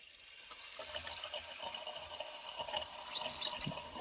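Wet gurgling and bubbling of engine oil while priming a Hemi engine's oil pump, steady and fairly close, with a few brief louder splashy bursts near the end.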